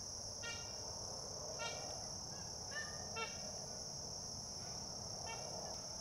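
Distant magpie geese in Australia honk in short nasal bursts, several calls scattered over a steady background hum of insects, with no voices present.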